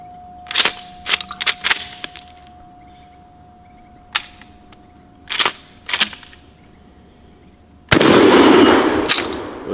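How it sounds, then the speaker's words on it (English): A Mossberg 500 shotgun fires at a cowboy target outdoors: several sharp, loud blasts in uneven bursts with quiet gaps between, ending in a longer sustained rush of noise. "I'm gonna shoot the cowboy."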